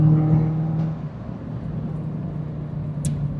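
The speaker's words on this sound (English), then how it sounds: "Let's just get past this slow moving vehicle." A car accelerates on a long straight rural road in Northumberland, UK, to overtake a slow-moving vehicle, with a steady low engine drone and hum that stays fairly loud throughout, near and continuous.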